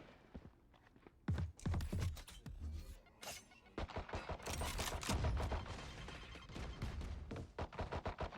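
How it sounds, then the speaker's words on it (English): Gunfire shoots down a barrier wall in the video game Valorant, with loud rapid bursts and single shots clattering over several seconds, plus sharp cracking impacts. "Now they're shooting down that wall."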